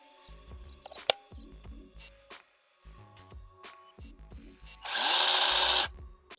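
A LEADER 20V mini battery chainsaw used for garden clearing makes soft handling knocks and clicks, then gives one loud, bright, high-pitched burst of about a second before cutting out.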